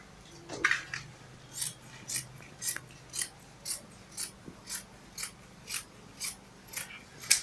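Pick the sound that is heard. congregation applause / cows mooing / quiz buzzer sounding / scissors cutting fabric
scissors cutting fabric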